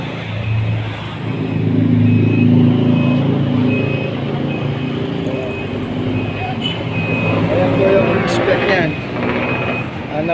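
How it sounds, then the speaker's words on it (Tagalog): A large 20 HP three-phase air compressor motor runs with a steady, loud mechanical hum and drone that continues throughout. Someone talks close by over the noise. "20 horsepower, 3-phase yung motor."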